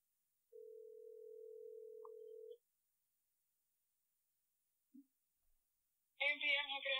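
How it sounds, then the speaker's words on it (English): A telephone dial tone sounds steadily for about two seconds while a call is being placed, followed by a small click and brief pause before a voice begins speaking close by. "I actually am going to call Jerry right now."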